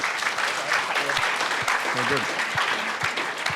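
Steady, dense clapping from an audience at a Taipans NBL basketball club town hall meeting fills the room throughout, loud and continuous, with a voice briefly speaking over it.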